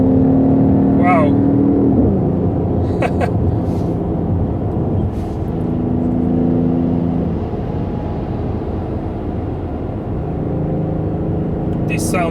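A Mercedes-AMG GT 4-door coupe's engine revs and accelerates on a highway, rising and falling through gear changes, loud inside the cabin, with someone talking over parts of it.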